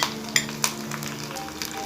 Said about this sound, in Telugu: ఇప్పుడు ఎండుమిర్చి వేసుకొని ఫ్రై చేసుకోవాలి.